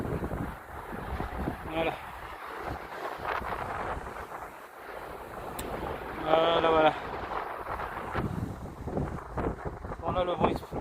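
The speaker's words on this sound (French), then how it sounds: "Bon là le vent il souffle bien, je le sens bien." Strong wind buffets the microphone atop a rock pile at the beach, gusting in uneven roaring bursts while someone speaks a few short words.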